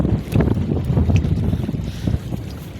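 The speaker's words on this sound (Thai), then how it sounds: "บรรยากาศลมพัดวีๆจนหนาว" Wind gusts buffet the microphone while fishing from a boat on the water, a loud, rough blustering that rises and dips throughout with no voices.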